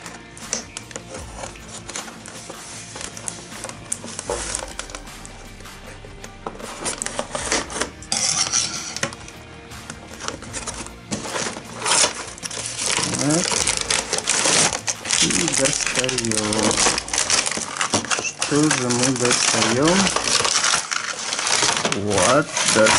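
A boxed battery-powered toy railway set is unpacked with loud crinkling plastic, rustling packaging and small rattling parts. Someone talks over the handling.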